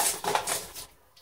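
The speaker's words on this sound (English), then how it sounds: "Get my spoon out first." A spoon is pulled out among metal cutlery and dishes at home, giving a quick burst of bright clinks and clatter that fades within about a second, close by and with no talk.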